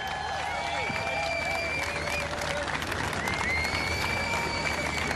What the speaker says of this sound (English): Let's give these ladies a big cheer and wish them well on their way.